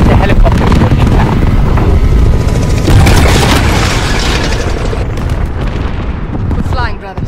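A helicopter crash explosion in the Modern Warfare video game, heard as a loud, sustained roaring blast with rumbling booms and debris that carries through the whole stretch before tailing off slightly at the end.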